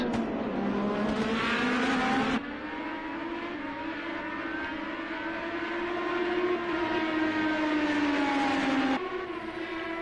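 Race cars lapping a track at a CSKL Monster Energy event, engines whining in a steady high drone that rises and falls as they pass, loud and continuous with no break.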